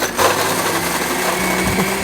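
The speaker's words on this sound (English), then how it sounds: "grab your blender and get to snow coning" Blender whirring steadily while crushing ice for a snow cone cocktail, a continuous loud motor grind with rattling ice throughout, no talk over it.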